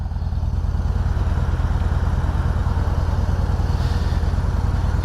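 A 2020 Yamaha Bolt R-Spec motorcycle engine with a 2-into-1 exhaust idles close by in a loud, steady, deep pulsing chug, alone without voices.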